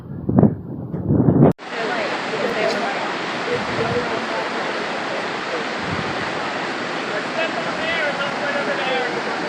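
Rushing creek water pours steadily and loudly after a brief muffled thump at the start, a continuous broadband roar of flowing water, swollen after rain, at Dolly Sods.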